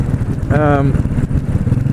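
Motorcycle engine running with a squeaky noise, a short high whine rising over the steady engine rumble midway through, with a person talking over the engine.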